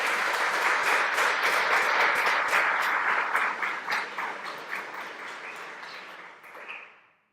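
A large audience gives a sustained round of applause at a GW event, a thick wash of clapping that stays full before gradually fading out.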